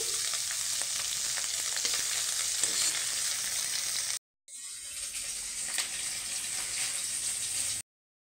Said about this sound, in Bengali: কুচো চিংড়িগুলো আমার ভাজা হয়ে গেছে। এবার আমি তুলে নিচ্ছি